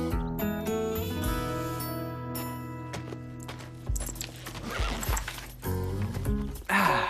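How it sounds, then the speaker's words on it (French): Horses neigh and whinny at a riding stable in a cartoon, with hooves clopping and tack jangling; the calls are loud and near over a musical background. "Dépêchons-nous d'aller sceller les chevaux."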